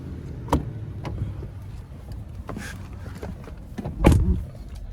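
Someone climbing into the driver's seat of a 2018 Toyota Avalon Limited 3.5: soft rustling and a few sharp clicks, ending in a louder, close door thump.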